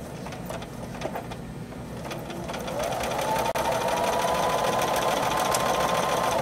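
Sewing machine stitching binding onto a quilt edge, a steady close hum of rapid needle strokes building and running continuously for several seconds with no talk.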